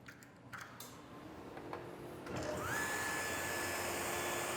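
Power saw cutting a scrap wood piece for a box joint, spinning up with a rising whine, then holding a loud steady buzzing tone to the end.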